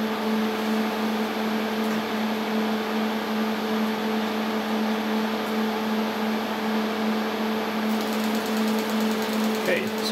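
A TU56 DECtape drive on a PDP-11/05 computer runs while copying, producing a steady mechanical whir with a constant tonal hum that stays even and close throughout.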